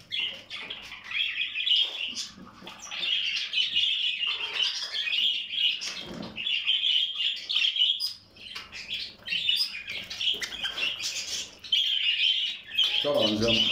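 Pet birds chirp busily at feeding time indoors, a dense, steady flock of high tweets and squawks close by, with someone talking intermittently over them.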